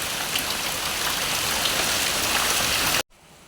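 Steady rain pours down outside, a dense close hiss of drops on surfaces that continues evenly and then cuts off abruptly near the end, with no voices.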